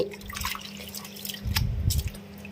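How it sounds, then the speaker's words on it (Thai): Soaked soybeans for tempeh being washed in water, soft splashing and dripping close by that swells into a fuller slosh near the end. "3 วันผ่านไปมาล้างกันค่ะ"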